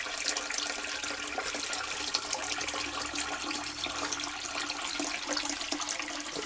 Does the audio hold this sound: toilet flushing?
yes